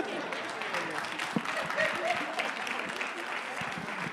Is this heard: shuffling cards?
no